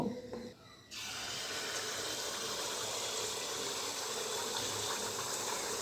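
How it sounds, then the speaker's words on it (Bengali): Poa pitha batter ladled into hot oil over a medium gas flame, bursting into a loud, steady frying hiss that begins abruptly and holds constant, close up, with no one talking. "এখান থেকে 1 হাতা ব্যাটার নিয়ে এই তেলের মধ্যে দিয়ে দেব।"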